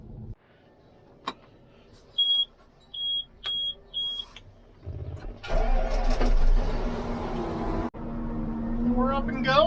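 Forage chopper in a hayfield: a few sharp electronic beeps, then the engine cranks and catches into a loud, rough roar that settles into a steady idle.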